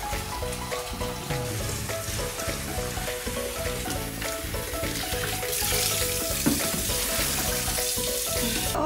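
Water gushes from a hose inlet into a new mini washing machine, a continuous hissing, splashing rush that runs steadily throughout, close and loud, with music faintly underneath.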